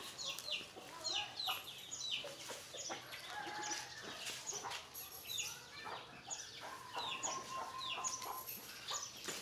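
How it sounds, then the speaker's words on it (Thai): Chickens being fed melon cluck and chatter in short, overlapping calls, with a rooster-like call in the mix, close by and continuous against light farmyard background noise. "เอาแตงไปแจกให้ไก่กินด้วยนะคะ"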